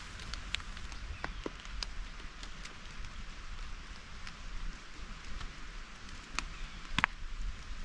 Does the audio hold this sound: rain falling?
yes